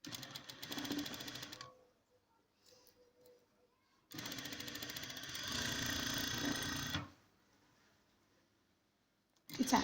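A domestic sewing machine stitches fabric for a wedding dress in two bursts, a steady rattling hum for about two seconds, then a longer run of roughly three seconds, with quiet handling sounds between.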